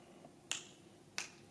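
Two crisp, isolated finger snaps roughly 0.7 seconds apart, close and clear against a quiet room during a theatre improvisation exercise.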